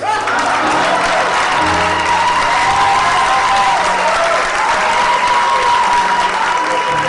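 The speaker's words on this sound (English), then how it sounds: "Give her a round of applause." Loud, close audience applause at a festival stage show, dense continuous clapping mixed with crowd noise and a bit of cheering, with background voices underneath throughout.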